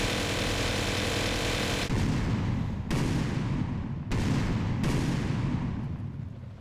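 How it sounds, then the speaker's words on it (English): Loud, booming explosions in Grand Theft Auto burst one after another, each a dense roar that cuts off abruptly before the next blast. "the explosion sound effects and the explosion animations"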